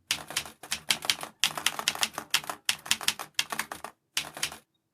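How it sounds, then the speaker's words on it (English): Rapid typewriter key clacks from a Svelte UI text animation, sounding in seven close bursts of dense clicking separated by short pauses, loud and alone with no voice. "it should also play the typewriter sound effect"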